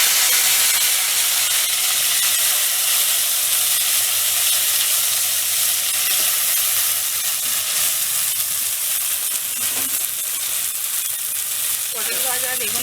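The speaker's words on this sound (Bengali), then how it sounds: "এবার ভেন্ডি ভাজছি।" Okra (bhindi) frying in a pan during Bengali Ranna Puja cooking gives a loud, steady sizzle and hiss, with a few faint stirring sounds and a brief voice near the end.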